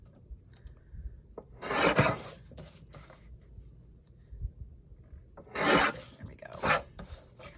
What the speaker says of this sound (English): I'm going to cut 1/2 inch off the bottom.